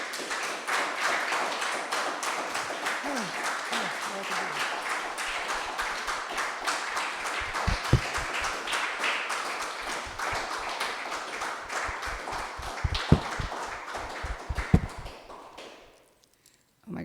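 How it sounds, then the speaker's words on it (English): Sustained audience applause at a poetry reading, many hands clapping steadily for most of the stretch before fading to a few scattered claps and silence. "thanks for all the applause"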